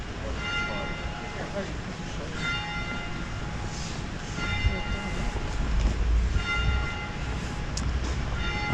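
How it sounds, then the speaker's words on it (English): Church bells ring out in a Winchester shopping street at ten o'clock, repeated tolling strikes heard at a distance over steady outdoor town noise and passing traffic. "And the bells are just ringing out."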